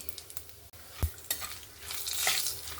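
Whole spices (cumin, bay leaves, cloves, cinnamon, cardamom, star anise and mace) sizzle in hot oil for a mutton curry, with close stirring scrapes and a rising fry hiss.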